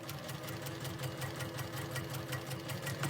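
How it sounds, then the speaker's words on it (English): A sewing machine stitches steadily across quilting fabric for a nine-patch block, with a fast, even mechanical chatter running throughout at close range. "So you would just stitch right across"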